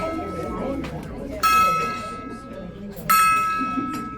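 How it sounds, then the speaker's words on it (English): A gong is struck twice at a tea room costume event, each hit a sharp bright ring that sustains and slowly decays, spaced about a second and a half apart over a murmur of background voices. "There's the gong."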